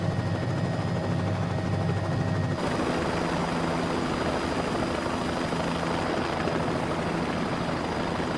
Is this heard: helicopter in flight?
yes